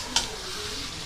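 Meat being sautéed in a pan, a steady close sizzle with one sharp scrape of stirring near the start, then continuous frying hiss alone.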